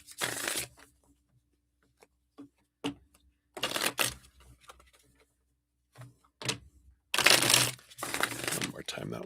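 Tarot cards being shuffled during a live holiday reading, heard as several loud bursts of riffling and slapping card noise separated by pauses, with a little background movement between the bursts.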